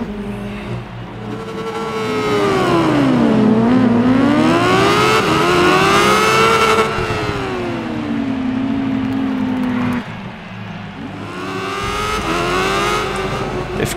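A 2005 Honda Fireblade engine in the Ride 5 racing game revs hard, its pitch sweeping down and up through gear changes and throttle, loud and close with a brief dip before climbing again.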